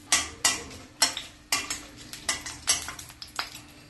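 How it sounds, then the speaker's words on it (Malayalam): Whole cumin, cardamom, cloves, cinnamon sticks and bay leaves stirred in hot oil for soya chaap masala curry, with a series of sharp metallic spatula scrapes and knocks against the pan, fairly close and evenly spaced. "എണ്ണ ചൂടാവുമ്പോൾ ഇതിലേക്ക് 1/4 ടീസ്പൂൺ ചെറിയ ജീരകവും 4 ഏലക്കയും 3 ഗ്രാമ്പുവും 2 ചെറിയ കഷ്ണം കറുവപ്പട്ടയും 2 ചെറിയ ബേ ലീഫും ഇട്ട് വഴറ്റാം"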